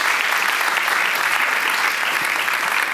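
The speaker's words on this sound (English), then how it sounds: "So give Dylan Ahern a warm round of applause" Audience at a library talk event giving warm applause, a dense, steady wash of many hands clapping throughout.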